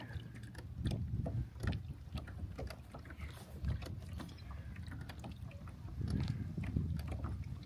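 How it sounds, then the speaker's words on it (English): A kayak on Horsetooth Reservoir just after launch: soft water lapping and paddle splashes against the hull, with low rumbling wind and small knocks, all fairly quiet and close. "Just did launch the kayak."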